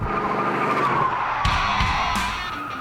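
A classic Ford F-100 truck is pushed hard around a track, tires squealing and skidding over a steady engine drone, with a few sharp bursts of scrubbing rubber near the end.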